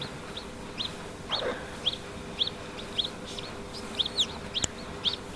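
A hen in a chick-hatching setup calls in short, evenly spaced clucks, about a dozen over a few seconds, at moderate distance against a soft background hum.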